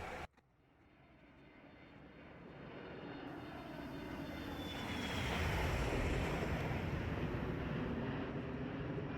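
A Boeing 737-300 airliner makes a flyby in a flight simulator, its engine roar swelling steadily into a broad, loud rumble and holding there, with a thin whine above and no talking.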